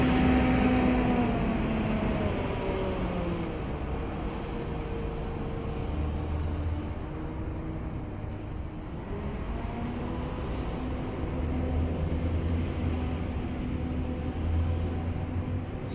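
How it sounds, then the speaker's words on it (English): A Stagecoach Scunthorpe East Lancs Viking bus running its diesel engine while driving, a steady low rumble and drone with slowly shifting tonal whine as it pulls along, continuous and close, no talking. "East Hanks Viking, Stagecoach Scunthorpe, finest bus. Listen to the engine on that."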